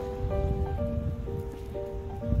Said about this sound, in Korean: 비가 이뻐서 좀 찍어보려고 갔습니다.